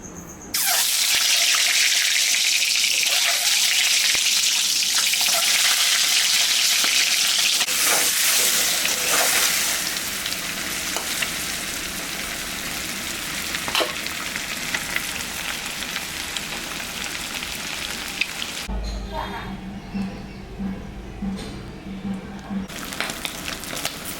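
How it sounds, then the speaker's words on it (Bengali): An egg frying in oil in a hot wok, a steady loud hiss and crackle that runs without a break, easing a little partway and dropping to a softer sizzle near the end. "ডিমটা ভাজবো।"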